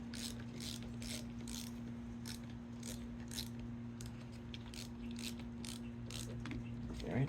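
A screw being driven into a wooden bird house, producing a rapid series of rhythmic ratcheting clicks over a steady low hum, close and fairly quiet.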